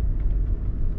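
A car pulls out of a garage, its engine giving a steady, loud low rumble close by with no voices over it.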